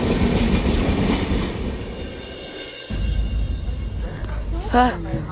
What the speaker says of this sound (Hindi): रेलवे स्टेशन पे गाड़ी रुक गई है